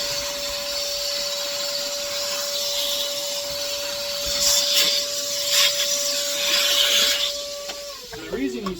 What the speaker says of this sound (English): Having the vacuum right there is constantly sucking the dirt